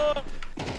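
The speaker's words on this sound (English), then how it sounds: "I forgot my gun is in burst fire" A short burst of gunfire in Counter-Strike 2, a gun set to burst fire, snapping out quickly over a busy game mix within under a second, with faint voice-like sound underneath.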